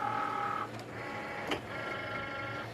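A Cricut Maker cutting machine loading material gives off a steady mechanical whir with tonal motor whine, a brief shift midway and a soft click, close and continuous with no talking.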